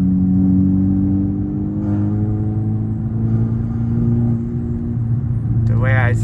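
A tuned Volkswagen R-Line car drives along with a steady low engine and exhaust drone heard from inside, rising and easing slightly, while someone talks over it.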